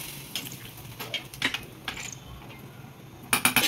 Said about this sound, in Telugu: కలుపుకొని మూత పెట్టుకోవాలి.